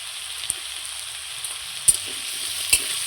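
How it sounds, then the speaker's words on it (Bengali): Potatoes fry in hot oil with salt and turmeric in a steady close sizzle, broken by a few sharp clicks and taps of a stirring utensil against the pan. "লবণ আর হলুদ দিয়ে আলুগুলো লাল লাল করে আমি ভেজে নেব"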